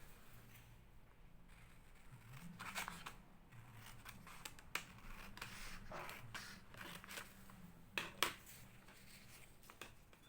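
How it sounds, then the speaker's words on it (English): Scissors snip through paper for a handmade paper bag journal, a series of close, crisp cuts with intermittent rustling between them. "Okay, scissors time."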